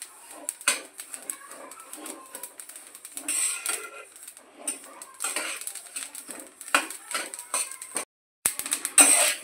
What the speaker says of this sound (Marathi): आपले तीळ आता चांगले तडतडायला लागलेले आहेत